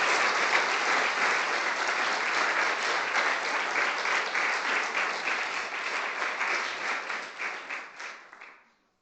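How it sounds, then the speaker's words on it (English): An audience at an alumni talk applauds the guest and the chair, a full, even round of clapping that thins and fades away over the last couple of seconds. "give a round of applause for Dara, but also our chair"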